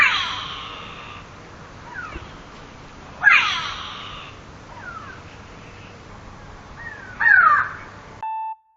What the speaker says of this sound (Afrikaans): Hierdie voël se naam is 'n kweelvoël.